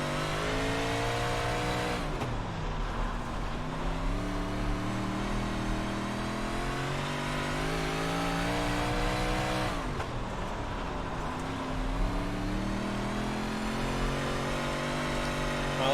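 An iRacing race car on the Lucas Oil Speedway oval, its engine droning loudly and continuously with rising and falling pitch as the throttle is held and eased, two noticeable dips and surges across the stretch.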